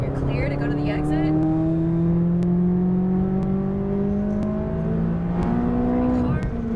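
McLaren 570S accelerating on a race track, its engine note climbing steadily through rising revs with brief shifts, loud and close from the cabin, with a voice talking over it.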